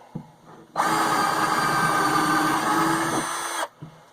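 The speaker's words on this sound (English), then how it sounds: "So I'm going to drill," A power drill whirs steadily for about three seconds while drilling during a tripod build, starting and stopping abruptly, close and loud in an otherwise quiet space.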